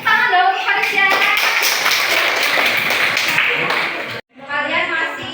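High school students in a history classroom clap their hands in a quick burst of overlapping claps, mixed with children's voices, before a short pause and more chatter.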